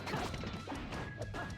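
Bomb striking a character in a Super Smash Flash 2 tournament match between Link and Zero Suit Samus, heard as dense, crashing impact noise within a continuous wash of game sound effects.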